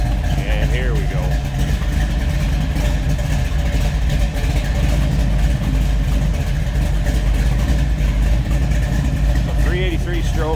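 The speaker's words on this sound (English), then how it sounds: "So 383 stroker, sounding healthy." A 1969 Chevrolet Camaro Z28 tribute with a 383 stroker V8 idles steadily and close, a continuous low rumbling throb with no revving, heard alone.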